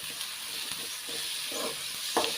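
Carrots and beans sizzle with ginger garlic paste in a hot pan, a steady close frying hiss broken by a few stirring scrapes.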